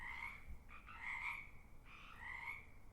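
Frogs call repeatedly in grassland, giving raspy, pulsing croaks in two or three overlapping bursts at moderate distance over a steady low background hum.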